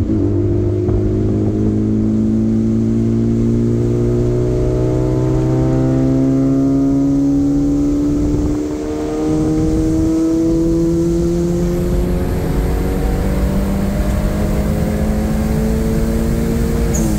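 Turbocharged Toyota Corolla XRS engine at 10 PSI of boost, revving loud and close through repeated rising throttle punches, with a brief dip near the middle and a steady drone between pulls.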